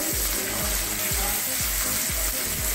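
Onions fry in hot oil with a steady, close sizzle and crackle, joined by a soft, regular low bumping as the pan is worked throughout.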